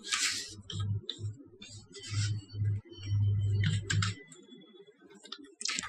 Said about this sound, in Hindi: यहाँ पर टाइप करेंगे